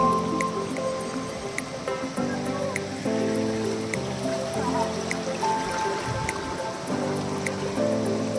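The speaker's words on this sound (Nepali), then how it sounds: "यो चाहिँ पहाडको सबसे क्लियर पानी हो, यो चाहिँ क्लियर वाटर।" Clear mountain water flowing and trickling steadily with squishy, dripping sounds, nearby and continuous, with a voice speaking over it.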